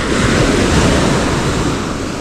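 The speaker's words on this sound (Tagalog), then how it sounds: "Hindi pa ganong malalaki ang alon nito" Ocean waves breaking on a beach, a loud continuous broadband roar of surf with wind buffeting the microphone and no other sounds.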